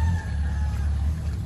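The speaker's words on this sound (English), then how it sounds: "There's a guy carrying a rooster in front of me." A rooster carried by a man through a wet market in the Philippines gives a short strained crow, close and clear, over a busy low rumble of market noise.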